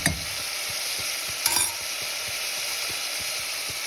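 Mutton for biryani sizzles in a pan while being stirred, a steady frying hiss broken by regular scraping clicks of the spoon and a couple of sharper clanks against the pan.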